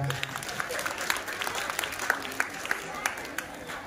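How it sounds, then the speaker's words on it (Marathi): A group claps together during a yoga demonstration class, a dense, moderately loud round of applause with scattered sharper claps, sustained for several seconds. "छान, टाळ्या वाजवा."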